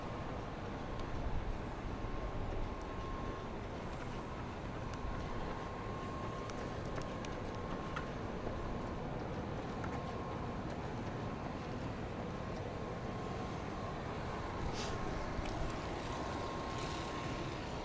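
An aircraft auxiliary power unit running at London City Airport, a constant broad roar with a steady whine, heard from a distance without a break.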